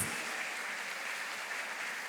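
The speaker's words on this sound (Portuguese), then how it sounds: "Vamos aplaudir Jesus?" Church congregation at a celebration service applauds, a soft, even wash of distant clapping sustained throughout without voices.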